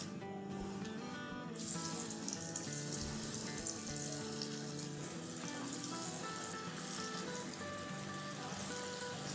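Potato bites dropped into hot oil set off a sudden, steady bubbling sizzle that keeps going without pause, with no voices over it.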